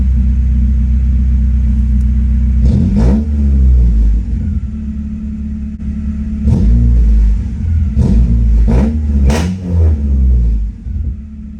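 A Honda Accord CB7 with an H22 engine drives along loudly, its low engine rumble steady and heavy, swelling through several revving surges, close and dominant throughout.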